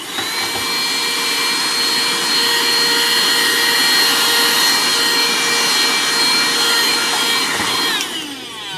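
Honlibey cordless mini desk vacuum cleaner fitted with its crevice tool, a loud, steady high-pitched motor whine running for several seconds before cutting off near the end.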